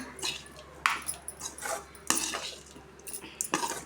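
A spoon stirs and mixes coconut rice in a metal pan, with repeated scraping clinks and clatters at an uneven pace, close and fairly loud over a low steady hum.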